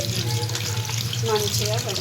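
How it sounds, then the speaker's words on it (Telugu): Water runs steadily from a tap into a sink while raw chicken is rinsed, with people talking over it. "ఇప్పుడైతే చికెన్ కడుక్కొని పెట్టుకోవాలి."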